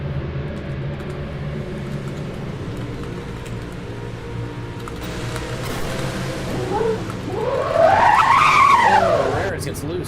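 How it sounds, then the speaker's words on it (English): Race cars running loose on the track during a 400-lap race, with a rising, swooping tire squeal and skid near the end over a steady engine drone, under a commentator's voice. "Oh, Ramirez gets loose up here"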